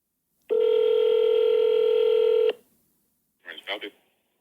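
A landline telephone sounds a steady two-second dial tone, then after a short pause a quick burst of touch-tone dialing beeps, close and clear, with no talk.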